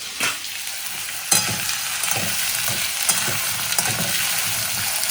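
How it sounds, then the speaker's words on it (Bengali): Lentils fry in hot oil tempered with nigella seeds and dried chili, a steady sizzling hiss broken by rhythmic spatula stirring and scraping at close range, with no voices. "এবার ডালটা ভেজে তারপরে বরবটিটা দেবো"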